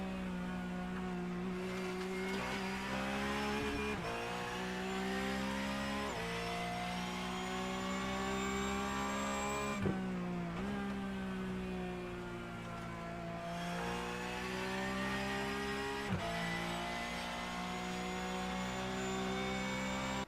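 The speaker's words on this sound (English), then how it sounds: "we'll leave you to enjoy the sound of these beautiful Porsche 911 GT Cup cars" Porsche 911 GT3 Cup race cars lapping Spa-Francorchamps in a two-hour race, heard onboard as a loud, sustained engine howl that climbs through the gears with brief dips at each shift.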